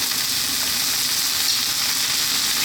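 Cooked yellow split peas (dal) go into a hot pot for a vegetable stew, giving a steady, dense sizzle and frying hiss that stays even and close throughout, with no voices.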